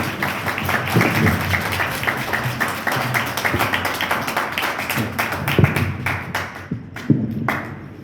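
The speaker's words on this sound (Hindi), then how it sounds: "आए यस्सु मसीह के जलाल के लिए जोरदार तालियां बजाएंगे अगर खुश हैं तो" A church congregation claps loudly and continuously, a dense crackling wall of hands with scattered sharper claps, thinning out toward the end.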